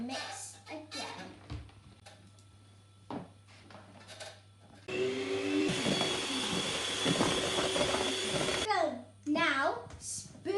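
Coconut muesli square mixture mixed for several seconds in the middle, a loud, dense scraping and churning that stands apart from the quieter stretches on either side, which carry a child's chatter and a steady low hum.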